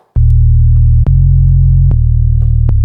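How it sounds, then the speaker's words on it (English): Sustained low sine-wave sub bass tones stacked into a chord for an 808-style patch, restarting with sharp clicks roughly every second, loud and steady with no voices. "now we have a kind of chord made by sine waves"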